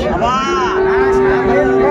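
A Sahiwal bull at a cattle market gives a loud, drawn-out moo lasting the whole moment, close and deep with a steady droning tone.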